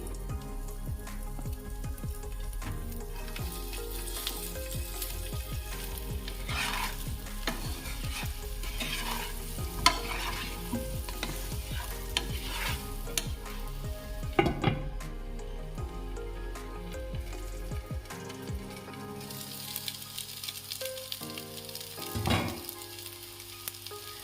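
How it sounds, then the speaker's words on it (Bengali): Potatoes boiled about seventy percent through, frying in a pan with a steady, dense sizzle and repeated scraping stirs throughout, no voices. "ওই আলুগুলো আমি ভেজে নেব পুরোপুরি সেদ্ধ করিনি সেভেন্টি পারসেন্ট সেদ্ধ করেছি"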